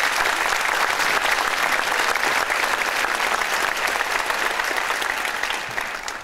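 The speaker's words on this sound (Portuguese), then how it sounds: "Uma salva de palmas ao nosso presidente Lamar." Dense, steady applause from a ceremony audience fills the room at an even loud level, tapering slightly toward the end.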